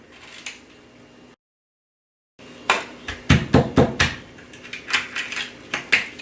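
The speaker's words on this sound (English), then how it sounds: "we're just gonna use my cleaver, kind of like it, chop through the head" A cleaver chops through a branzino fish head on a board, several sharp, close knocks in quick succession after a brief silence, with lighter taps and clinks between them.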